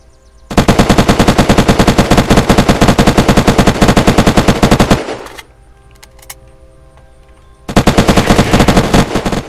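Automatic weapon fire in the online PvP video game Unturned, a loud rapid burst of shots lasting several seconds, a brief pause with faint game sounds, then another sustained burst, with no talking.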